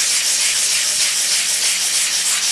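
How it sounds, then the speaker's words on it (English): Wet sanding with 500 grit wet-or-dry sandpaper, a steady close hissing rub with slight rhythmic swells from back-and-forth strokes, alone without talk. "Now we're using 500 sandpaper here, 500 wet or dry."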